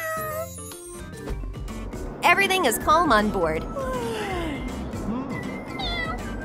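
A cat meows repeatedly in rising, wavering cries, several loud close calls clustered in the middle of the clip amid music, with a person speaking briefly.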